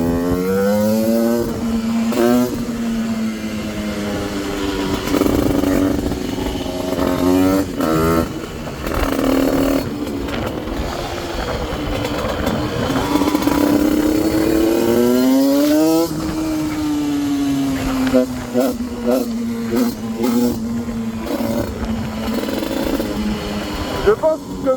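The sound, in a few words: Parmakit 110 moped engine revving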